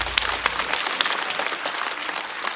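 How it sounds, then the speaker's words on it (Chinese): A stand-up comedy show audience applauds comedian Wang Dadao in a dense, steady burst of clapping that carries on for the full stretch without any talking. "来，再次把掌声送给王大刀"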